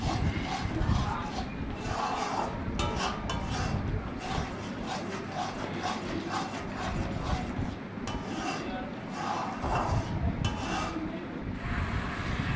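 Gobindobhog rice flour being stirred into palm kheer with milk in a pot, a steady scraping and rubbing that continues throughout at close range.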